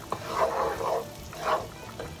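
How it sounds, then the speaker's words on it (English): Butter and parsley flakes sizzle softly in a pan for shrimp scampi, a short, faint crackling hiss with a little stirring. "we're sizzling."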